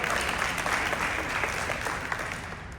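A conference audience breaks into sustained applause during a leadership talk, dense clapping from a crowd filling the room, fairly even throughout and tapering slightly at the end.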